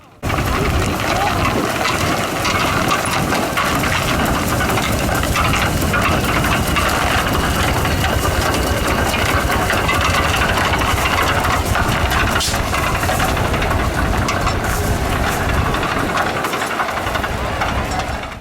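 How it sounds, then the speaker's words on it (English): A steam tractor rolls past at a train day event, giving a steady, loud, continuous mechanical rumble with chugging throughout and no pauses. "I couldn't not grab a video of the steam tractor rolling before we left"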